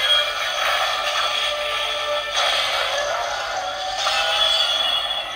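An Arc Cube Solis transformation toy plays a tinny electronic transformation tune through its small speaker, a bright, compressed stream of sound that holds steadily for several seconds with soft swells and no voices.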